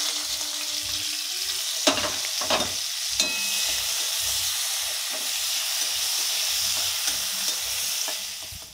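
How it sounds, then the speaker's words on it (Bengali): Capsicum frying in a pan, a bright steady sizzle with repeated scraping stirs and clattering utensil knocks, close and continuous, no voices. "এরপর ভেজে নিচ্ছি ক্যাপসিকাম।"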